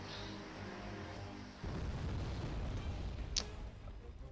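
2,000-pound bombs strike a town in the Wargame: AirLand Battle video game, a heavy rumbling blast that swells into a dense roaring boom with a sharp crack partway through, loud and close.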